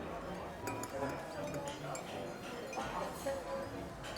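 Coffee with milk is stirred in a cup at a buffet, with light repeated spoon clinks against the cup under people talking nearby.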